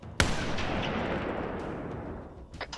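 A single sharp sniper rifle shot cracks loud and close in Halo ODST, followed by a long rumbling echo and a couple of faint shots near the end.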